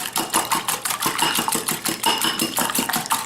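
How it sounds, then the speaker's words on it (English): Egg whites and a yolk beaten with a hand whisk until foamy, a steady rapid rhythm of wire strokes against a bowl, close and fairly loud, with no talking. "Here I'm going to beat these until they get foamy here with my whisk."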